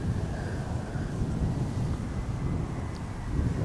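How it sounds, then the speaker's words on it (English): Wind at Amsterdam Schiphol Airport, a steady low rushing roar with microphone buffeting, constant and fairly loud throughout, with no voices. "Definitely things are becoming a bit more windy over here"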